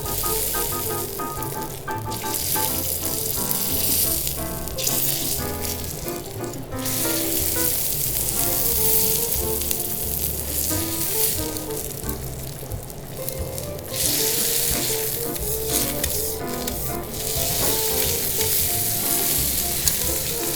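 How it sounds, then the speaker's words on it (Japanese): Nanatani duck breast sears on a hot teppanyaki griddle, giving a loud, steady sizzle that crackles without pause, with occasional scraping and shifting as the meat is pressed and moved. "表面をさっと焼き固める程度に焼いていきます"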